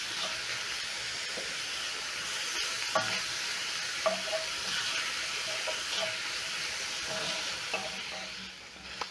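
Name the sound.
onions, ginger and garlic stirred and frying in pan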